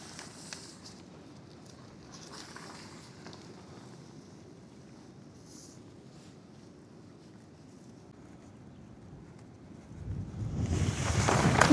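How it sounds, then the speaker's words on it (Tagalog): Strong wind buffets an open beach campsite at Estanza Beach, a steady low rumble of gusts against the microphone that swells sharply louder near the end. "sinasampal tayo ng malakas na hangin"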